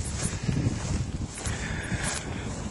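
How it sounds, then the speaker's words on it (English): Wind gusts buffet the microphone on a hill crest during a June hike on St Kilda, a steady rumbling rush with swelling bursts and no voices. "The wind started to pick up a little bit, but it's only because I'm right on the crest of the hill."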